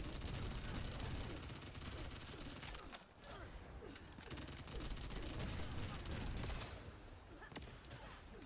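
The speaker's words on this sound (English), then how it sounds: "We're shooting so many bullets" Rapid bursts of automatic gunfire from The First Descendant play in fast, dense volleys with a brief pause midway, fairly quiet overall.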